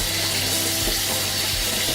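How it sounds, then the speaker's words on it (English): Salted eggplant slices rinsed under a running kitchen tap, a steady broadband rush of water splashing without pause throughout, close and fairly loud, with no talking. "I'm just going to rinse these off now, and just to take all the salt off them."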